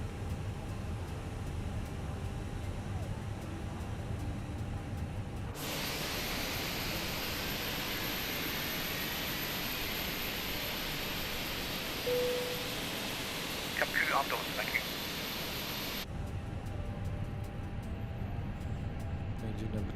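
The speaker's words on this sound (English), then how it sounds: "Engine number 2 is starting. We have fuel flow, we have exhaust gas and temperature increasing." A Fenix A320's number two engine spools up in Microsoft Flight Simulator 2020 as a steady, even broadband roar. It begins abruptly, holds for about ten seconds with a few faint tonal blips, then cuts back to a low hiss.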